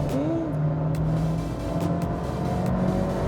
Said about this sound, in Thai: แป๊บเดียวครับ แป๊บเดียว ความเร็วขึ้นพรวดเลยนะครับ